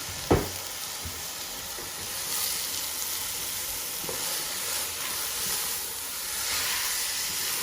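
Onions frying with rice in a pan for pulao, giving a steady close hiss and sizzle. A sharp clink sounds near the start and faint stirring scrapes recur throughout.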